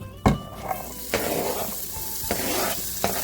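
Garlic, sun-dried tomatoes, thyme and oregano sauté in oil in a pan: a bright, steady sizzle broken by a few sharp spoon knocks and stirs, close and fairly loud.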